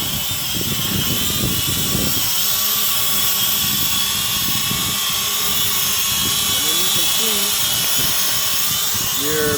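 An XK X300W quadcopter drone coming in to land on a small pad, its rotors giving a steady, loud whirring buzz close by that runs unbroken throughout.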